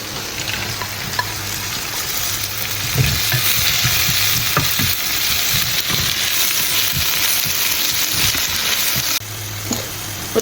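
Garlic ginger paste fries for a pork dish, giving a loud, continuous sizzle with bursts of crackling and occasional stirring scrapes, dropping briefly near the end before resuming.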